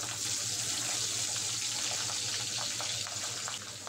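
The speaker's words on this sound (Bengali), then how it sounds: "তেল গরম হয়ে গেলে লবণ হলুদ দিয়ে মেখে রাখা পাবদা মাছগুলো এক এক করে তেলে ছেড়ে দেব।" Pabda fish fry in hot mustard oil, giving a dense, continuous hissing sizzle with a few sharper spits and crackles, close and fairly loud throughout.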